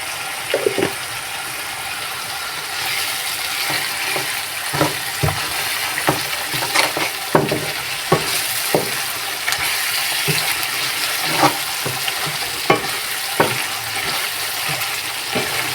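Chickpeas being sautéed with salt, turmeric and spices in a pan for hotel-style chola bhuna, a continuous close sizzle broken by repeated scraping clicks of a spoon stirring against the pan.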